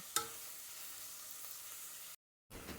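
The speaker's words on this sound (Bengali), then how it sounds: "লাইট ব্রাউন হওয়া পর্যন্ত ভাজতে থাকবো, মিডিয়াম আঁচে দিয়ে করবেন।" Chopped onions fry in a kadai over medium heat, giving a soft, steady sizzle with a faint clink of stirring near the start and a brief gap of silence near the end.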